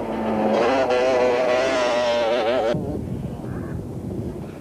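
Yamaha Banshee quad racers at the 1995 Caledon 400 race, high-pitched two-stroke engines whining and revving over rough terrain, loud and rising in pitch before cutting to a lower rumble.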